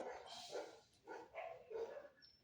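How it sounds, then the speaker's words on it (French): A neighbour's dogs bark at a distance in a series of muffled, repeated barks, faint and somewhat indistinct under a quiet room background. "J'ai les chiens du voisin qui aboient."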